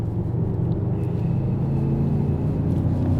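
A 2025 Range Rover Sport SV in dynamic mode is pushed hard into a corner, producing a steady, loud, low engine and road rumble that holds level throughout.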